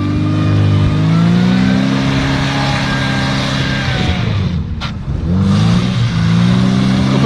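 A Moskvich car on aggressive mud tires revs hard while driving out of mud, its loud engine note rising and holding close up, with a brief dip and then another surge.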